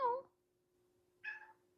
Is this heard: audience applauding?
no